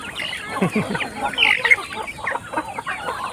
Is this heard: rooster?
yes